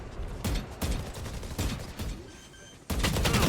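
Rapid gunfire bursts from a Valorant esports match, several sharp volleys with brief gaps between them and a sustained burst at the end, no talk.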